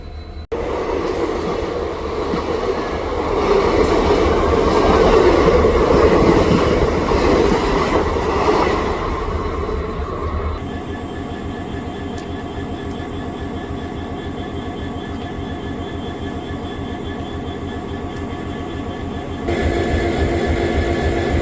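An intercity train rumbles past on the Ambala Cantt–Dhuri line with loud, continuous rolling noise and clatter, then recedes into a steadier, quieter mechanical hum before a brief swell.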